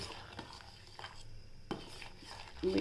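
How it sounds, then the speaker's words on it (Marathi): A spoon stirs rice kheer with ghee in a pot, giving quiet scraping with a few soft clinks against the metal over a low background. "त्याला हलवत राहायचं, नाही तर खाली लागण्याची"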